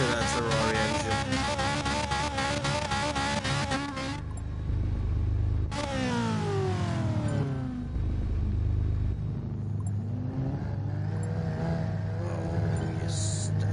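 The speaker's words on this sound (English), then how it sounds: "Listen to that Ferrari engine." A Ferrari race car engine in a GT4 racing game event revs hard with rapid, pulsing, high-pitched rises and falls, then settles into a lower rumbling drone, loud and close with no voices.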